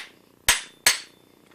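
A drill press part being hammered loose by hand in a workshop, two sharp, ringing metal strikes about a third of a second apart, close and clear with quiet in between.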